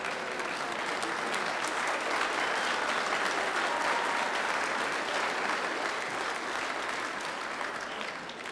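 A church congregation applauding the mothers during a Sunday service, with sustained, dense clapping from a crowd that holds steady for several seconds before easing slightly.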